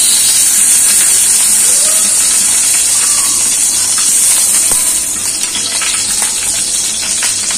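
Ghee heating in a hot pan on a gas stove while making sheera for Ram Navami gives a steady, bright sizzle and hiss. It runs close and unbroken throughout, easing slightly toward the end, with no voices.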